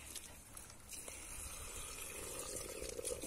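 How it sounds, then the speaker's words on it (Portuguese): Water pours quietly and steadily from a tap or container onto fruit and vegetable peels collected for compost, a soft continuous gushing trickle with no voices. "Depois eu jogo um pouco de água"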